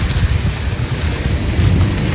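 Steady rain falls loudly with a low, rumbling roar of thunder underneath, continuous and close, with no talk.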